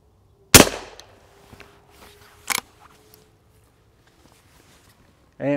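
.22LR shotshells fired from a Henry H001 rifle at a close paper target give one sharp, loud crack, then a second, quieter report, with handling noise between and a brief voice at the end.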